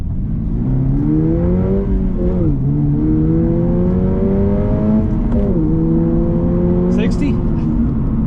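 A Subaru BRZ tS accelerates hard from a dead stop to 60, its loud, close engine note climbing steadily with two brief dips at the gear shifts.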